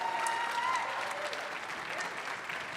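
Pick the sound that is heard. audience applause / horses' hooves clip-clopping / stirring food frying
audience applause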